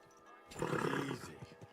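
A horse in the video game Kingdom Come: Deliverance II gives a short, close whinny that rises and fades within about a second over quiet game ambience.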